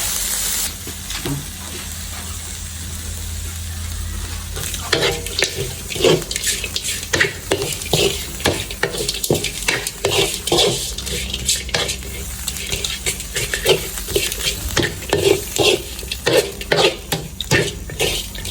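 Quail with chili stir-fried dry in a pan, a spatula scraping and clanking in quick repeated strokes over a constant close sizzle, no voices.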